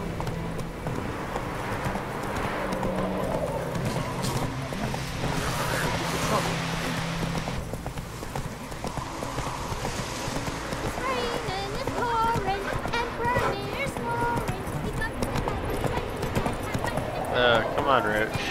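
Geralt's horse Roach gallops in The Witcher 3 video game, hooves clopping in a steady run under game music and ambience throughout, while someone talks over it.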